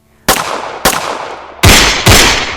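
Four loud gunshots in quick succession during an exchange of gunfire at a checkpoint, two sharp cracks then two heavier blasts with echoing tails, no voices.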